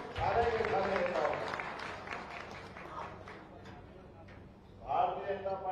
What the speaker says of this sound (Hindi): सभी मंडल अध्यक्ष जोरदार ताली बजा दो सारे के सारे नेताओं